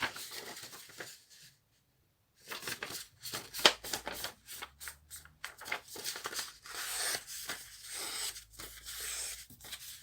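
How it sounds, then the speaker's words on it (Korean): Two sheets of A4 paper folded together in half, close rustling and crinkling in irregular bursts with brief pauses, creases pressed down in quick swipes. "일단은 A4 용지를 반으로 2개를 같이 접어주세요"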